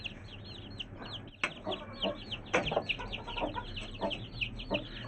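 Aseel chicks peep in rapid, high, repeated bursts near an Aseel rooster, with soft clucks and a few sharp knocks mixed in.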